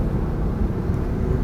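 2021 Lexus LC 500 Convertible with a 5.0-litre V8 accelerating hard, a loud, dense low-pitched engine roar that runs steadily with no speech over it.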